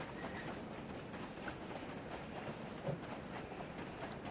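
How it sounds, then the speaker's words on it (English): A moving train in a visual novel rolls along with a steady, even rumble and faint clickety-clack of wheels on rails, continuous and fairly soft, heard from inside the carriage with no talking. "The regular rumble of the train pulled him back to reality"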